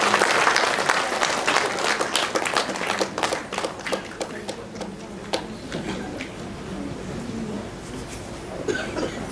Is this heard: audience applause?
yes